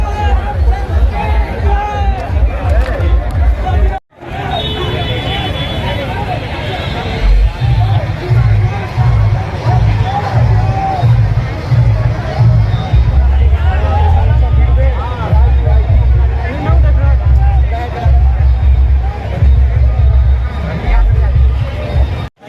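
Dense crowd babble from a large gathering on a road during a Bol Bam pilgrimage in Chhattisgarh, with steady overlapping voices and a low rumble underneath, broken by a brief dropout.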